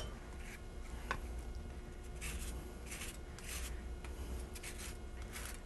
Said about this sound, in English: Then what I want to do is, using a microplane grater,